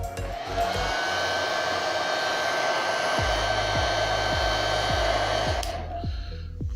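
A hair dryer blows hot air onto craft glue, running as a steady, close whirring hiss for several seconds before cutting off, with low rhythmic thumps underneath and no talking.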